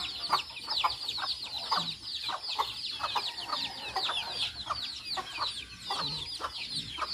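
Hens clucking busily at feeding time in Iloilo, a flock of overlapping chatter and short excited calls, steady and close, with occasional soft human sounds among them.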